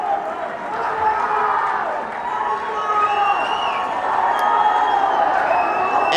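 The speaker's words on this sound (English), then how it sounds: "Both these teams getting ovations from the crowd." Crowd cheering and applauding in a gym at a high school volleyball championship, a sustained, moderately loud roar of voices and clapping that swells toward the end, with a commentator speaking over it.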